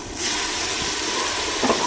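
Spices frying with a splash of water in a pan for tinda sabzi sizzle and hiss loudly and steadily up close, with faint stirring scrapes and no talk.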